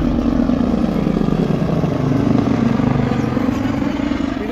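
A snow bike's engine runs steadily on snow in Gulmarg, a loud, continuous droning rumble close by with no breaks.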